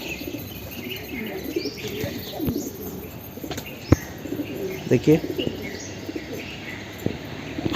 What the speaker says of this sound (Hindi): देखिए, कबूतर आना स्टार्ट हो गया बाहर से।